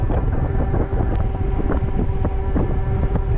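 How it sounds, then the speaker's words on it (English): Wind buffeting the microphone while riding a Friend 1.5 e-bike, a loud steady rumbling roar with faint ticking underneath, alone without talk. "And hitting wind, slowing me down."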